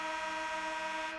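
Deep, foghorn-like horn ending a period at a youth ice hockey game in Colorado, one loud sustained harmonic blast that holds steady and then starts to fade at the end.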